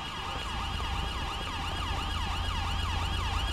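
A wailing ambulance siren from the video game GTA 5 with a UK police mod cycles up and down steadily and continuously over engine rumble and road noise, loud and close throughout.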